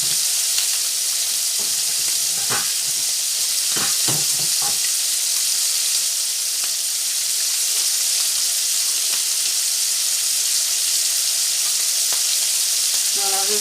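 Leeks and stuffed meat rolls frying in a pan, a steady close hiss of sizzling with scattered small pops and crackles throughout, no voices.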